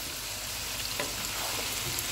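Vegetables fry in a pan for vegetable biryani with green chillies, tamarind, dried plums and spices, giving a brief, steady, close sizzle with a few soft stirring scrapes.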